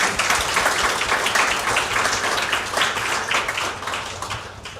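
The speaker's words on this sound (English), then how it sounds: "encouraging words from Professor Acharya, let's give our professors one last big round of applause." An audience at a commencement ceremony gives the professors a loud, sustained round of applause, many hands clapping densely in a large room, gradually tapering slightly toward the end.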